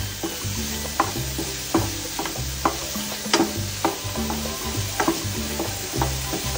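Chilies and spices sizzle in a hot pan for mutton curry, with steady frying hiss broken by repeated stirring scrapes and light clanks at an even rhythm, close and moderately loud with no talking.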